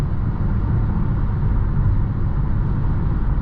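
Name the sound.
car road noise on highway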